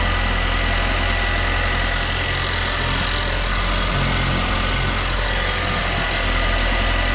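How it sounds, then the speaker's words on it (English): A Nissan Juke with a catastrophically broken turbo that is leaking oil idles steadily up close. The engine makes a constant rough hum and a faint knocking rattle throughout, with no voices. "the engine running, as you can see."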